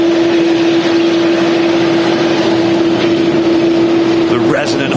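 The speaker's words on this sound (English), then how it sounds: "The resonant hum of them Dreamliner engines." Boeing Dreamliner jet engines hum steadily at an airport, a constant droning tone over broadband rumble, loud and continuous with a brief rising whine near the end.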